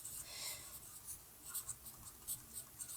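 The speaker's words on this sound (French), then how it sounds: "on va déjà écrire" A pen writes on paper, making soft scratchy strokes in short bursts with brief pauses between them, faint and close.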